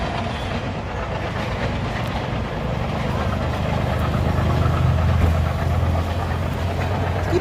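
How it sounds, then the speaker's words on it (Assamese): A train rolls along the rails with a continuous low rumble and rattling clatter, heard from on board and steady throughout, with faint voices in the background. "ট্ৰেইনখন গৈ আছে"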